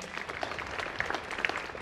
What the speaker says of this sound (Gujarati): મેડમને ફરીથી આપણે તાળીઓથી વધાવીએ.